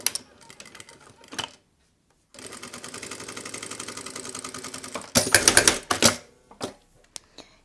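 A domestic sewing machine stitches fabric for a cloth passport wallet, running in a steady rapid chatter for nearly three seconds, then a louder burst follows, with small clicks and handling sounds before and after.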